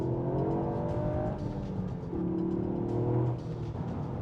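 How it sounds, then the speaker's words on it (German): A Toyota GR Yaris driving on the Autobahn with an almost empty tank, heard from inside as a steady engine drone with rising and falling revs over road rumble. "Jetzt fahren wir eine Runde auf die Autobahn."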